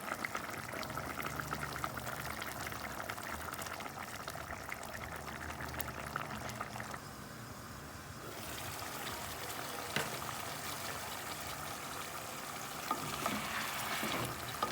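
Curry chicken gravy bubbles and sizzles as it simmers and thickens in a pot, a steady soft crackling with faint stirring and liquid sounds, close and fairly quiet, no voices.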